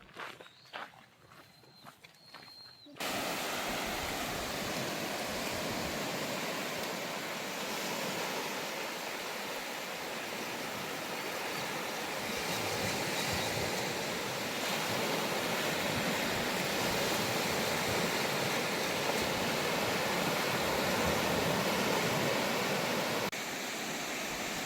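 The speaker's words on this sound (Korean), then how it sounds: "날씨는 흐렸지만 깨끗한 파도 소리가 듣기 좋았습니다." Steady broadband wash of ocean surf on a quiet, off-season beach in the Goto Islands, continuous and fairly loud after a short quieter opening with faint scuffing.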